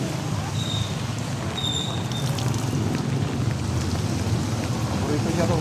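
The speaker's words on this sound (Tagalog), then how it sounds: "Lakas parang ang ulan." Heavy rain pours steadily as a dense, constant wash of noise throughout, heard from outdoors while a delivery rider works, with a few faint tonal sounds and possible distant voices mixed in.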